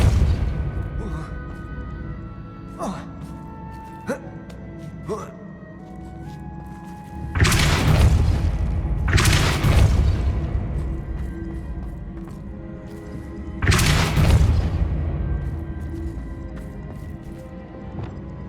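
Three heavy booms from the Depulso spell hitting in the PS5 game Hogwarts Legacy land a few seconds apart, each a loud burst that fades out, with lighter thuds and a voice heard in between.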